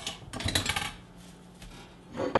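A metal teaspoon handled in a home kitchen while making Moroccan soup, a few light clinks and rattles against dishes and utensils, close and fairly quiet, ending with a sharper clatter.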